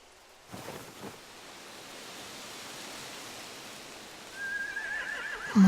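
Horses neigh in a barn area of The Walking Dead: The Final Season game, one whinny early and another louder cry near the end over a steady hiss of ambient noise.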